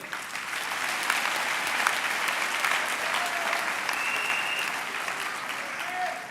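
Steady, dense applause fills a hall at a University of the Free State campus graduation ceremony, many hands clapping together at an even level throughout, with faint voices mixed in.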